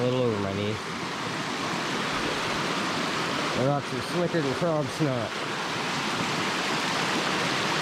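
Water spills over a rocky lip in a knee-deep creek, a steady close rushing wash that runs throughout while someone talks over it.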